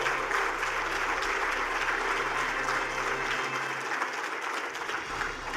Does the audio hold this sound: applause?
yes